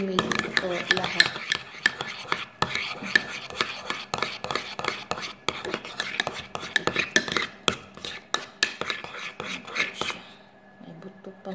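A spoon scraping and clinking steadily against a bowl while stirring a cornstarch mixture in a home kitchen, quick rhythmic taps and rubs close up, with talking in the background.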